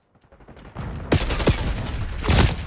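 AK74 gunfire in the Call of Duty: Black Ops 6 beta: after a quiet start, a handful of sharp, loud shots crack out over busy game noise, with no voices.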